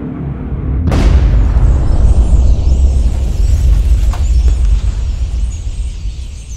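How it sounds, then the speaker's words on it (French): A bomb detonates with a sudden loud blast, followed by a long, heavy rumbling roar that sustains for several seconds with no voices. "Voilà la puissance de cette bombe."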